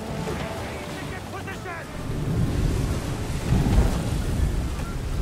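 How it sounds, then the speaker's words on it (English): Ocean surf rolls in as ambient game sound in Assassin's Creed 3, a steady wash of waves with wind noise, swelling louder toward the end, with faint speech in the background. "Waves are coming in."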